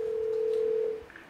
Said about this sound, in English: Watch how many times the phone rings.